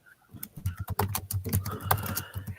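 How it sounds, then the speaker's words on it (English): Several computer keyboards being typed on at once, a busy patter of keystrokes with uneven rhythm, fairly close and moderately loud, with no talking. "And we hear everyone start typing."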